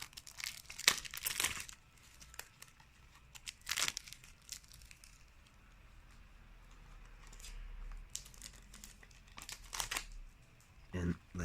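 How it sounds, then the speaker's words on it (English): Cellophane wrap is peeled and crumpled off a Tomica toy car box, with close crinkling bursts separated by quiet gaps and a final flurry of rustling. "I'm going to take the cellophane off the box"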